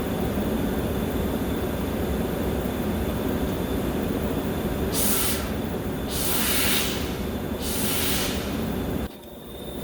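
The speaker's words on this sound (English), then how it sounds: "I just cracked my main line there, pressurized the fuel tank, had a good steady stream coming out." Fuel spurting from a cracked main fuel line on a Case IH 485 tractor with the tank pressurized, heard as three hissing bursts of about a second each over a loud, steady engine or machinery drone, with no voices.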